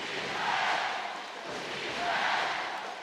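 A basketball arena crowd at the FIBA Asia Cup 2013 final between the Philippines and Iran chants in a loud, swelling rhythm, two surges rising and falling over a few seconds with no clear voice on top.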